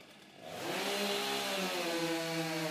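Chainsaw revving hard and cutting timber in a STIHL Timbersports women's race, a loud sustained engine whine that rises after a brief quieter start and holds steady throughout.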